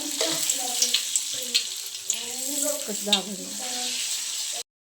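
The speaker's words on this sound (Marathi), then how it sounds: "आपल्याला ह्याच्यामध्ये तेल टाकून घ्यायचं आहे." Oil heating in a pan for a Maharashtrian fish curry gives off a steady, close sizzling hiss for about four and a half seconds, with faint voice-like tones in the background.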